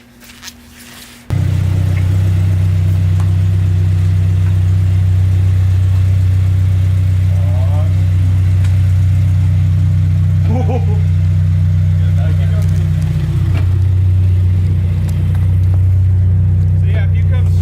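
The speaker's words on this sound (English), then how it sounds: "Alright, it works. Just drives away." A car fitted with new Tien coilovers starts with a sudden loud engine burst, then idles and rolls away with a steady, deep drone up close, while a few brief voices are heard over it.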